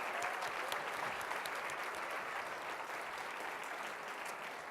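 An audience at a storytelling event applauds the volunteers, a steady, even roar of many hands clapping that carries on for several seconds without speech.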